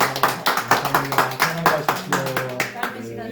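A small group claps for a guide during a farm and church field visit in Gimje, a close, brisk run of hand claps with voices mixed in, fading toward the end.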